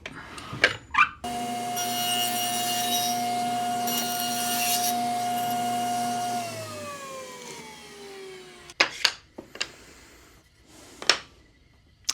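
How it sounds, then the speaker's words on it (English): Walnut boards ripped to about 7/8 inch on a woodworking saw: a loud, steady whining cut with a sustained tone that runs for several seconds, then drops in pitch as the blade spins down, framed by short knocks and clunks of handling wood. "I'm just gonna rip some of these pieces of walnut at about 7/8 of an inch"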